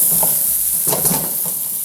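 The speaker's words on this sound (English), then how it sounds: "Add a little bit of oil to the pan." Onions frying in an oiled pan beside leftover bits of eggplant, a loud close sizzle with a couple of brief stirring scrapes, and no one speaking.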